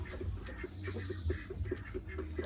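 Village hens cluck and murmur close by on a small farm, a steady run of soft repeated clucks over a low rustling background, with no talk.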